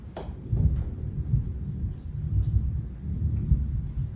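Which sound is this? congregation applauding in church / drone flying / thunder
thunder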